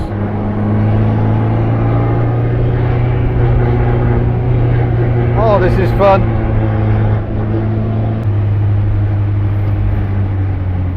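A 1959 MGA Twin Cam engine drones steadily while driving on an Australian road, a low, even hum throughout with someone speaking briefly over it midway.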